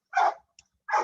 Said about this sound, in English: I'm sorry about the dogs on the outside.